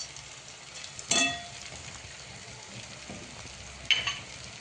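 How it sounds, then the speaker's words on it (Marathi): Schezwan fried rice stir-fried in a pan with tomato and soy sauce, giving a steady low sizzle with two louder scraping stirs, close up and with no voices. "चांगलं परतवून घ्यायचं आहे."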